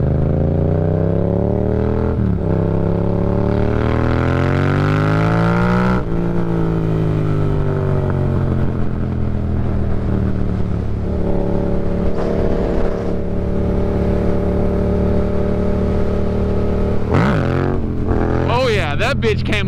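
A 2018 Yamaha MT-07 motorcycle with an aftermarket tune accelerating hard in third gear, its engine note climbing steadily in pitch through long pulls with brief shift dips, loud and close from the rider's position.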